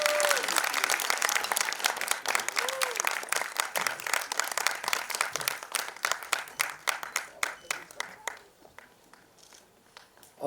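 An audience at a music premiere keeps clapping as guests come up onstage. Dense applause thins into a few scattered claps and fades near the end, with a voice heard briefly early on.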